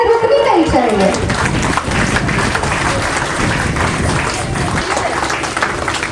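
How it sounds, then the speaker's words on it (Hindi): An audience at a development programme event breaks into sustained applause, a dense steady wash of many hands clapping, with a voice speaking over it at the start. "तालियां रुकनी नहीं चाहिए।"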